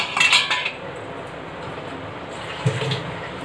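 A cooking pot handled on a kitchen stovetop, a quick cluster of metallic clinks at the start and a single clank near the end, with a faint background hiss in between.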